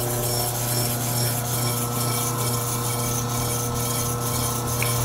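Clipper blade being honed on a fine 1500 grade diamond plate, giving a steady, close, continuous scraping rub with a constant hum underneath, no talk.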